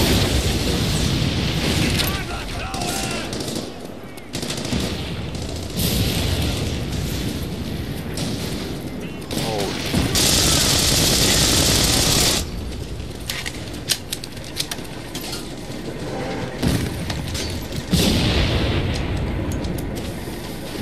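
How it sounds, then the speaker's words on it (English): Tank rumbling and firing in The Saboteur, with heavy booms, bursts of gunfire and dense battle noise filling the scene, loud throughout with occasional sharp blasts. "Do you hear that? Sounds like a fucking tank."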